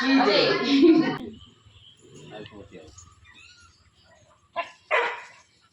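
Dog barks come in two short, sharp bursts near the end, following a stretch of loud talk and quieter background chatter.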